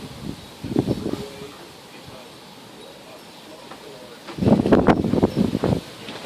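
Strong wind gusts buffet the microphone on a hot day in Menifee, rising in two rough roaring surges with quieter, lower rumble between them; no clear talk.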